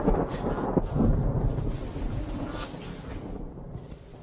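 A thunderstorm with lightning, where loud rolling thunder rumbles over steady rain throughout and the rumble swells and fades.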